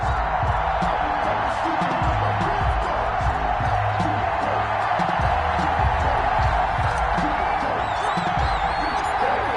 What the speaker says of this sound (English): This crowd is ready as their guys get set to match up between the Dallas Cowboys and the Washington football team